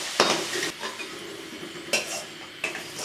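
Fried potatoes lifted out of a pan of hot oil, with a few scraping metal utensil clatters against the pan over a faint sizzle, close and brief.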